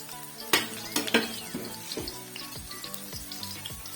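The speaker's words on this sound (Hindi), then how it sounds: "यहाँ पे जी हमने तड़का जो है वो लगा दिया है कढ़ी को" Hot oil sizzles and crackles up close as spices are added in a tempering for kadhi, with sharp clanks of a metal ladle against the pot.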